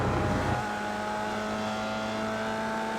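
Formula Vee race car engine in iRacing at Winton, revving hard then settling into a steady, loud, droning pitch as it accelerates, heard alone without talk.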